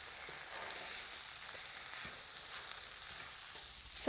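Tofu scramble sizzles steadily in a pan over medium-high heat, a dense continuous crackle and hiss with occasional soft scrapes as it is stirred, close and without talk.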